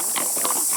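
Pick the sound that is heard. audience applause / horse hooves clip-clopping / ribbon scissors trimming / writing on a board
horse hooves clip-clopping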